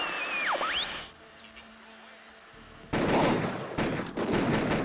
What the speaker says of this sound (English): Why are you shooting the floor, fucker?